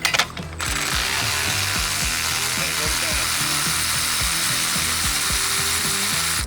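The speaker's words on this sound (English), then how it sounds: "Just throw it on a ratchet." A ratchet turns a swivelling spark plug socket on a Honda Odyssey, giving rapid, evenly spaced clicks that continue steadily at close range after a brief opening clatter.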